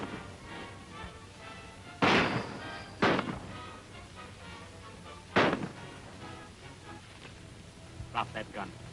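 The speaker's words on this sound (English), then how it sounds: "I heard the shooting" Gunfire in a 1938 western shootout: several loud, sharp shots spaced a second or more apart, ringing over a faint background hum, with a few lighter cracks near the end.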